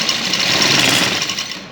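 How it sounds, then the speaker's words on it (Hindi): A sewing machine running steadily while stitching a cord neckline, a continuous close, loud, buzzing mechanical whir with no talking. "और ये इसके साथ साथ सिलाई लगाएंगे।"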